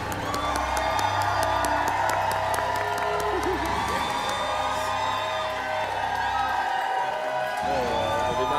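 A studio audience at a Thai televised singing-contest show claps and cheers loudly and steadily to welcome a contestant, with whoops and music over a continuous, full crowd roar.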